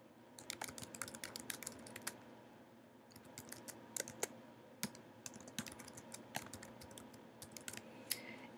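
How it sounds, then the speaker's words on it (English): Fast, continuous clicking of keys on a computer keyboard, quiet and close, a steady rhythm of keystrokes with brief pauses, no voices. "I can type directly into the Popplet."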